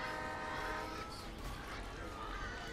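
A train in the Roblox game Hungry Pig, sounding a sustained horn-like tone over a continuous rumbling rail noise, steady and fairly loud, with a voice talking over it.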